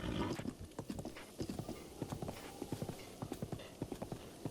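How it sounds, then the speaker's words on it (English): Wild horses trot through the green Faron Woods of Hyrule in a Zelda video game, a quiet, rapid, irregular clip-clop of many hooves carrying on steadily without talk. "Lovely wild horses."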